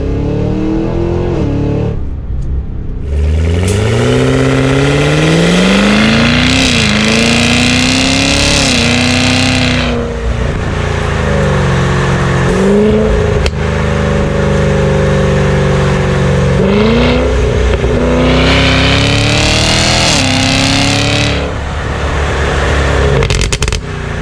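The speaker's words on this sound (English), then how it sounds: "crazy to hear that from a Cadillac Escalade" A 2023 Cadillac Escalade V, a large luxury SUV, revs its engine repeatedly, loud close exhaust roars rising and falling in pitch over several long pulls, with brief dips between them.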